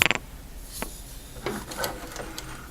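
A sewing machine stitching a small tote bag made from 5-inch squares gives a short burst of needle clatter at the start, followed by soft handling and fabric rustles.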